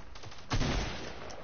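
A burst of gunfire from the game Fortnite cracks out in a quick, muffled volley, with a stronger hit near the middle over a low background rumble.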